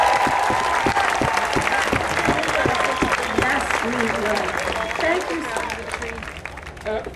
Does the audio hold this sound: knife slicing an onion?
no